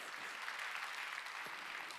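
Steady applause from a congregation during a Wednesday church service, a continuous wash of many hands clapping at moderate volume, heard alone without talk.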